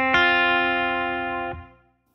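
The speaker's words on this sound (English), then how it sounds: "So first, we'll do it with reverb." An electric guitar plays a song part through a slight reverb effect. A sustained chord rings out, a second strum follows about a second and a half later, and both fade away alone with no talking.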